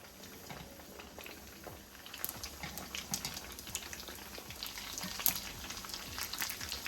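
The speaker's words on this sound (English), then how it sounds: "If your oil is not bubbling hot, do not add the egg roll." Hot oil bubbling and sizzling steadily as salmon egg rolls fry, with crackling pops that grow busier partway through; no voices.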